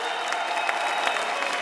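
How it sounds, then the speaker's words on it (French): Loud, steady applause fills a hall at an awards ceremony for local associations, a thick wash of clapping from a large audience that holds at an even level throughout, with a faint tonal hum underneath. "On peut encore les applaudir bien fort."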